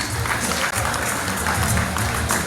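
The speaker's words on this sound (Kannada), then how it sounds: "ದಯವಿಟ್ಟು ಚಪ್ಪಾಳೆಯೊಂದಿಗೆ ಅಭಿನಂದಿಸಿ." Steady applause from a crowd at a felicitation ceremony, a dense wash of clapping that holds at an even level from start to finish.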